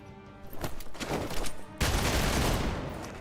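Gunfire from the video game Marvel's Midnight Suns, a dense, continuous burst of shots that grows louder partway through and sustains as a heavy volley, with no talk over it.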